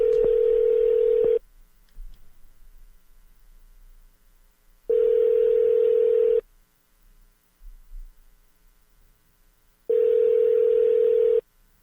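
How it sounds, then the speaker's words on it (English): Telephone dial tone heard while a phone call is being placed, sounding as three loud, steady bursts of about a second and a half each, separated by quieter gaps of faint background noise. "We're calling somebody."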